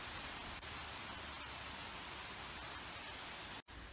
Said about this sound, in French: l'averse est très forte et vraiment gênante sans protection